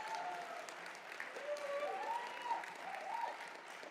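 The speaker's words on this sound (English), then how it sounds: "Let's give a big round of applause to all of them." Audience members at an annual accountants' seminar in Abu Dhabi give steady applause for the organising committee, a moderately distant wash of clapping with faint voices and a few whoops mixed in.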